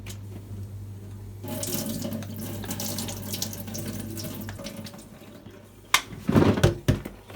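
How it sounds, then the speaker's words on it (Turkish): Water from homemade green olives being drained, a steady pouring rush into a sink that tapers off, then a few louder splashes and knocks near the end. No voices. "Şimdi hemen suyunu süzmeye başlıyorum."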